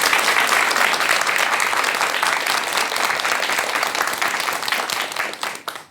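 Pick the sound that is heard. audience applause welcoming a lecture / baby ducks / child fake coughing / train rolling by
audience applause welcoming a lecture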